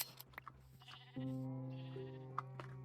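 A single sheep in the Minecraft video game gives one drawn-out bleat that wavers and fades, fairly quiet and alone with light clicking sounds before it.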